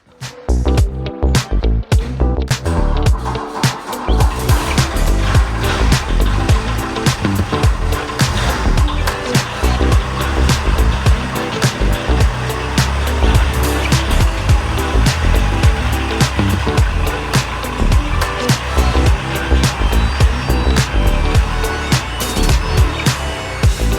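A BMW E39 engine cranks and catches, then runs loudly and steadily as the car pulls away, with a continuous close engine and road rumble.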